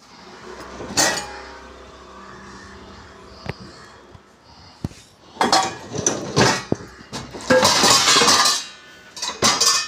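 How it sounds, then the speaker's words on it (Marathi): Dishes, steel pots and spoons clink and clatter as they are set into the racks of a dishwasher, with scattered sharp knocks and a busy burst of rattling toward the end. "ही भांडी लावली आहेत."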